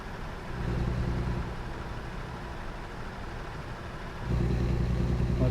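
A truck engine in American Truck Simulator drones steadily and close, with a low rumble that rises as the throttle opens and grows louder and deeper in the last second or so.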